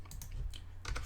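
Numbers being typed on a computer keyboard, a quick run of close, crisp key clicks in uneven bursts over a steady low hum.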